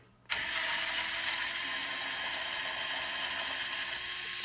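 A power drill or driver runs steadily for about four seconds, removing screws from the motor of a Ryobi P3650B 10-inch miter saw; a loud, continuous whirring starts abruptly and stops at the end, with no talk.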